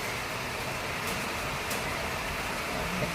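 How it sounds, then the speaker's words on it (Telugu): Rain falling in Mumbai over a home garden: an even, unbroken hiss of steady rainfall, moderately loud and uniform from start to finish, with no voices. "చూడండి ఇప్పుడు వర్షం పడుతుంది."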